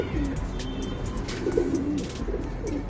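Tournament pigeons coo in soft, repeated low rolling calls, close and steady over a constant outdoor background hum, with no talking.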